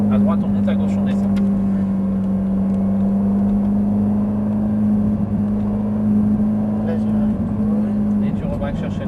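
A Ferrari F458 engine drones with a steady, loud hum from inside the car, holding a constant pitch with little rise throughout, while a voice talks over it.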